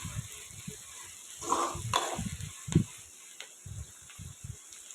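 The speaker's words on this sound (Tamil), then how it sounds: "இதெல்லாம் நல்லா பொரிஞ்சதுக்கப்புறமா 4 வெங்காயம் மீடியம் சைஸில் கட் பண்ணி சேர்த்துருக்கேன்." Four medium-sized onions fry in hot oil with spices, giving a soft sizzle mixed with scraping, clattering stirs of a spoon against the pan at close range.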